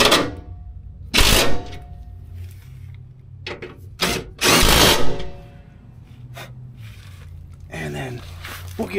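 Power tool tightening bolts during a Hummer H3 oil change, several short loud whirring bursts separated by pauses, with someone talking nearby between them.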